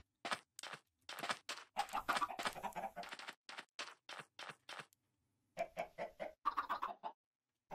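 Chickens clucking in the Minecraft video game, a long series of short, quiet clucks in bursts separated by brief gaps, with no speech over them.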